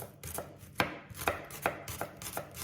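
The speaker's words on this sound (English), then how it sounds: "And then flip them around and just give it a bit of a rough chopping." A knife rough-chops vegetables for risotto on a cutting board, giving a steady run of sharp, close thuds roughly every third of a second, with no voices over it.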